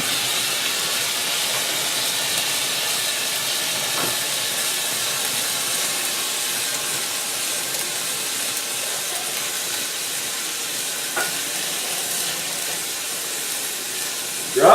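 Brandy poured into a hot pot of French pot roast, giving a loud, steady, close sizzle and hiss of steam that holds throughout with little change.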